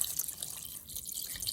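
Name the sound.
water poured into pot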